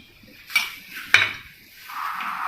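A spoon clinking and scraping in a metal pot while gulab jamun dough is mixed with semolina and cardamom powder, with a few sharp knocks and rustling strokes, close up and without voices.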